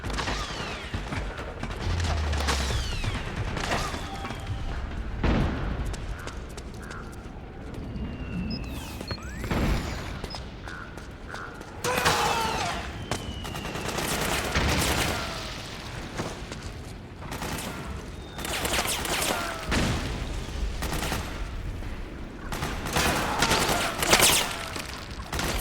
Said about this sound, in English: So this is a mortar that I'm controlling, though you could barely tell.